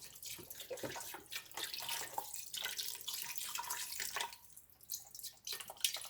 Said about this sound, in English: I'm gonna add water.